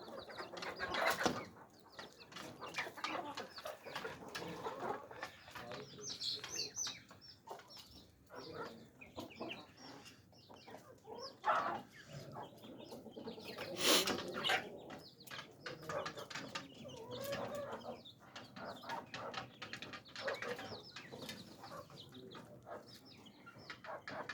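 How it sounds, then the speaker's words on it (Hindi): Chickens, chicks and ducklings on a home poultry farm cluck and peep in a busy, continuous chatter, with scattered scratching and rustling throughout. "5 मुर्गी के चूज़े और 2 बतख के चूज़े माशाल्लाह।"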